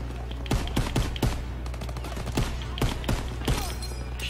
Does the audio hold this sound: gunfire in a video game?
yes